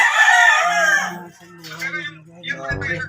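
A fighting rooster crows loudly near its cage, one full cock-a-doodle-doo followed by shorter clucks and calls, with a person talking faintly in the background.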